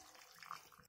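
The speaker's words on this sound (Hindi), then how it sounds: "फिर हम पानी ऐड करेंगे, ये पकौड़े का धुला हुआ पानी था हमारा" Water being poured into jackfruit curry gravy in a cooking pot, a steady splashing pour running for about a second before cutting off, close and alone.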